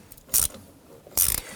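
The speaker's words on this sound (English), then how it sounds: "we'll go ahead and tighten these down." A ratchet tightens bolts on the rear wheel cylinder of a 2017-2020 Hyundai Elantra: two short bursts of quick metallic clicking, close and crisp, with a quiet pause between them.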